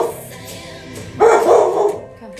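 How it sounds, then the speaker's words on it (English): A single dog gives one loud, close bark, a short sharp burst that rings briefly in a quiet indoor room. "It's not bark time."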